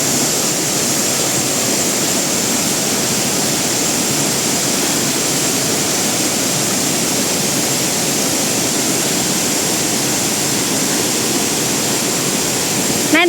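Small river stream at Leuwi Hejo, Sentul, rushing and splashing in a steady, dense wash of water noise that fills the whole span without pause, close and loud.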